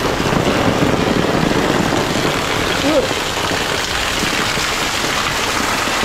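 Heavy rain in a storm roars steadily and loudly on a house, a dense continuous downpour with no break.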